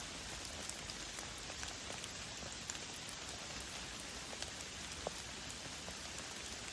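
Steady autumn rain falls on the ground and leaves outdoors during a rainstorm, a dense continuous patter with scattered louder drops close by, with no voices.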